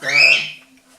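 A pet bird calls indoors in a short bright burst of chirping that fades quickly, with a faint low hum continuing beneath it.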